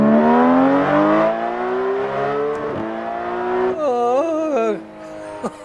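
A race car engine in Assetto Corsa revs loudly and steadily, pitch climbing, dropping, then wavering through quick rev changes, close and dominant with no talk.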